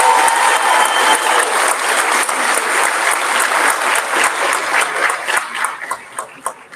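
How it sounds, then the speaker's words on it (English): A middle school graduation audience gives a sustained round of applause for the 2023 students, dense, loud clapping from a crowd that thins to a few scattered claps at the end. "can we please give our 2023 students a round of applause?"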